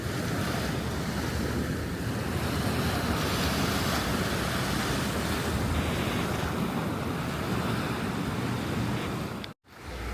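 Ocean surf washes onto Turtle Beach on Oahu as a dense, continuous roar, mixed with heavy wind buffeting on the microphone, before a sudden brief dropout near the end.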